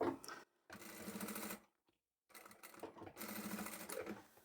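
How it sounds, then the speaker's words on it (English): A sewing machine tacks down a corner of a fabric scrap, running in steady rapid bursts with short pauses between them, close and clear with no talking. "I'm just going to tack this one down in the corner."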